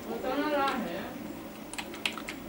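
Keys clatter in short bursts on a computer keyboard while a heading is typed into a Microsoft Word table, following a brief stretch of someone speaking nearby.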